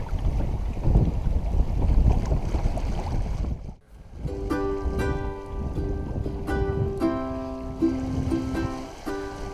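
A sailboat running downwind in about 10 knots of apparent wind at roughly 5 knots in the Everglades backcountry, with steady wind and water rush, a dip near the middle, then music playing over it.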